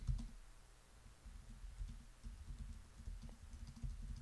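Computer keyboard typing as a search query is entered, a quiet run of soft, uneven keystrokes over a low background rumble, continuous for a few seconds.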